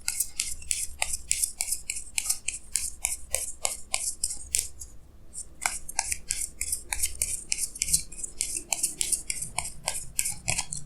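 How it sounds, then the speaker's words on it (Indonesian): Tarot cards are shuffled and drawn by hand, a steady run of crisp papery flicks and snaps, close and continuous, with no voice over them. "Jadi sini saya akan tarik lagi 2 kartu tambahan, ya."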